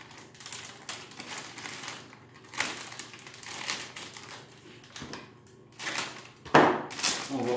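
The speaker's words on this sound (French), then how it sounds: "Et on prend un tape qui colle, comme le tape rouge" Red adhesive tape is pressed and wrapped to seal a mushroom spawn bag, giving a series of close, crinkly taps and rustles with a sharper crackling burst near the end.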